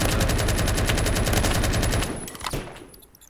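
Rapid automatic gunfire in the Roblox shooter Phantom Forces, a loud, dense burst of evenly spaced shots lasting about two seconds before ending in a final crack and fading echoes.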